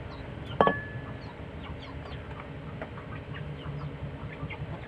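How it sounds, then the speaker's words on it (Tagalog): Chickens wander indoors, with one sharp close cluck standing out early, then scattered softer clucks and chirps over a steady low background during house cleaning. "Uy, may manok pumasok."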